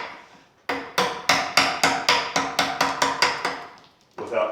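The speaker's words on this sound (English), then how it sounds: "we're cutting off these knots with a chisel and a wooden mallet" Steel chisel driven by a wooden mallet to cut knots off a wooden post for a natural tabletop: about a dozen sharp, evenly paced knocks, close and loud, with no talking.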